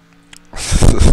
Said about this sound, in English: The V8 engine.